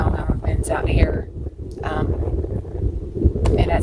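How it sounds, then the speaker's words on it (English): Steady wind gusting across an open farm with hoop houses, a continuous low rushing roar with buffeting on the microphone, close and fairly loud throughout. "As you can see, it's windy now, and this is just a little breeze."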